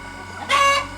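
A chicken in a backyard flock gives one short, loud, nasal cluck close by, lasting only a moment over a low background hum.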